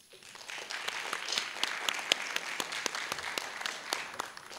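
An audience applauds to welcome lecturer Dr. Timothy O'Malley at a lecture series: a moderate stretch of scattered, individually audible hand claps in a room, fairly soft and steady, with no talking over it.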